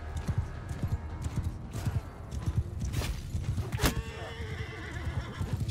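Horse hooves clip-clop in steady rhythm during a battle in Mount & Blade II Bannerlord, with a horse neighing partway through over a low din of fighting.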